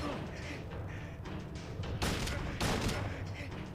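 Gunfire exchange with a handgun in the video game Silent Hill 2, several sharp shots with two standout loud cracks over dull ambient rumble, fairly faint overall.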